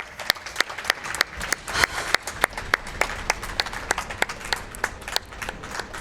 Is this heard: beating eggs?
no